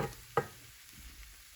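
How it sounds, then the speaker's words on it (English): A sauce with ginger, garlic powder and pepper is stirred in a pan. One short scrape sounds near the start over a faint, low sizzle, briefly and quietly. "For my sauce, I'll make a little hole in the center here and kind of mix it as I go."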